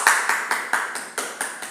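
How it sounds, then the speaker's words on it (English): A classroom of students clapping for a classmate in a short run of about eight evenly spaced, fairly close bursts, with no voices over it. "Give her a clap."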